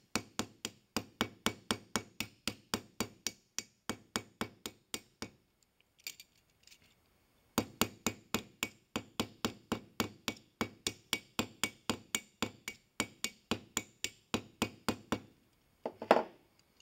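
Steel hammer striking a hinge pin inside the barrel of a forged hinge, a rapid, even series of sharp metallic taps in two long runs separated by a brief pause, close and clear with no talk.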